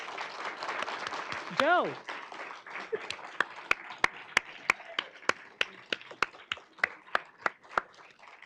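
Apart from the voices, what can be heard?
audience applause for award staff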